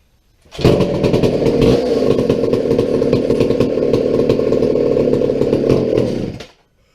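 A McCulloch 797 chainsaw starts abruptly and runs close and loud for about six seconds, holding a steady, buzzy idle before cutting off sharply.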